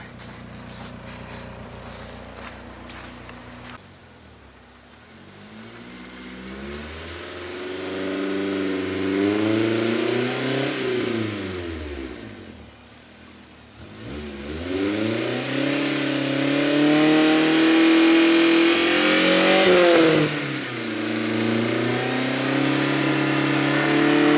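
A bagged Honda S2000 drives through snow to park, its engine close and loud, revving up and easing off in repeated surges, with tires and wind noise between, and no talking.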